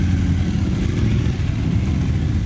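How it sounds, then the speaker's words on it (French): Motorcycles setting off for a rider training site, a loud, continuous low engine rumble close by, steady for a couple of seconds with no voices. "Les participants sont ensuite montés sur leur moto pour se rendre sur le lieu d'entraînement."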